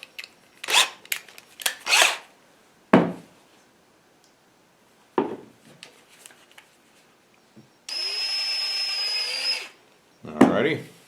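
Power driver turning a recoil pad screw into an English walnut gunstock, a single whirring burst of about two seconds near the end, set among handling noises and brief knocks.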